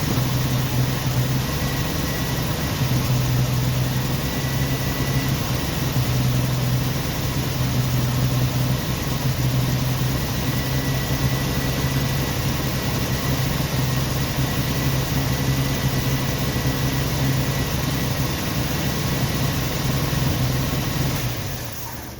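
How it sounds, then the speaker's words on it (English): A 1990 Jeep Wrangler engine idles steadily and close by, a continuous low rumble with a slightly uneven, rough pulse that holds throughout before cutting off abruptly at the end. "At least it's idling. Started on its own without needing the bottle."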